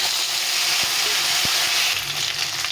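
A bay leaf and cumin seeds fry in hot oil, giving a loud, dense, continuous sizzle with a few faint low taps from the pan.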